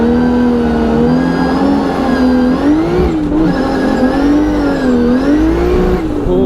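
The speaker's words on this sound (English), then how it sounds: "Alright, let's do night drifting." A drift car's engine revs hard and steadily through a night drifting battle in Brazil, a loud sustained roar with wavering pitch as the throttle rises and falls, near and alone without talk.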